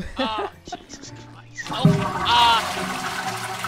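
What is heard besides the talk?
toilet overflowing with water in GTA 5 video game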